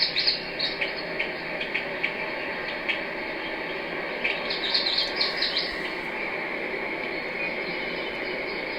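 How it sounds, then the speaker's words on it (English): A bird calls with repeated short chirps and tweets, moderately near, over a steady outdoor hiss of insects or ambient noise, with a brief flurry of calls midway. "It sounds like a bird."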